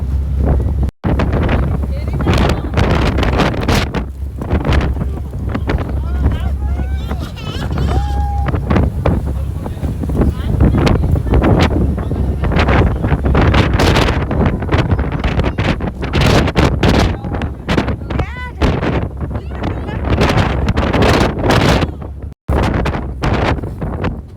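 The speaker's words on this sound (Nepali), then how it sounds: "कस्तो हावा चलेको के है" Strong wind blowing outdoors, buffeting the microphone with loud roaring gusts throughout, while people talk over it.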